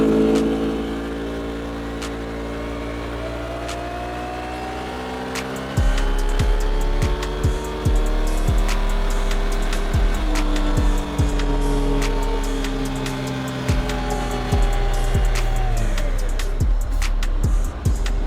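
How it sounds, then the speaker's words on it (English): A scooter engine fitted with its stock variator revs repeatedly, its pitch sweeping up and down in long rising and falling runs, loud and close throughout with no talking. "So that's with the stock variator installed"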